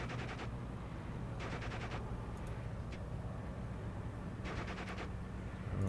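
Short bursts of rapid gunfire from a German unit in the wartime strategy game Steel Division 2, three quick volleys heard at a distance over a low steady rumble, with no voices.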